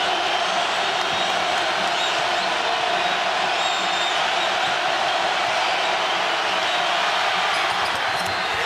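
A packed basketball arena crowd at NC State roars in one dense, unbroken wall of noise as Kevin Keatts rouses them during a free throw against Clemson, loud and sustained throughout.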